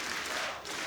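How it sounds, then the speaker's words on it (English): Arena crowd at an ESL One Katowice 2015 Counter-Strike semifinal, Fnatic versus Virtus.Pro, producing a steady broadband roar of cheering and applause that stays loud throughout the brief moment, with no voices standing out. "I hope you guys can hear the crowd in the background"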